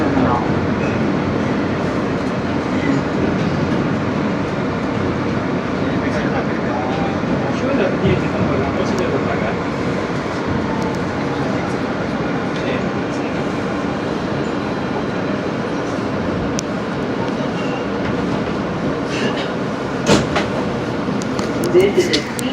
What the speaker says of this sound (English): This is a Queens-bound N Express train.